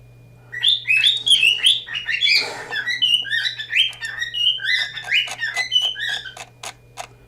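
Indoors, a pet bird chatters with dense chirps, whistles and squawks, plus a brief rustling burst midway and a few sharp clicks toward the end, all close over a low steady hum.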